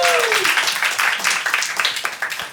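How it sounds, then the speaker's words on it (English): Debate audience breaking into applause, a loud dense wash of clapping with scattered whoops and voices on top, tapering slightly toward the end. "big round of applause for"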